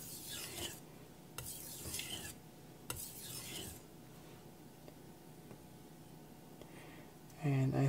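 A knife is drawn across a Kitayama 8000 sharpening stone with an 8k nagura, giving several soft, gritty rasping strokes, close and quiet, with faint clicks and a brief knock at the end.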